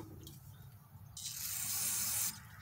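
A can of cleaner spray is aimed at the fuel system of a Homelite HG 1800 generator, giving a close, steady hiss that lasts about a second, with a brief earlier burst.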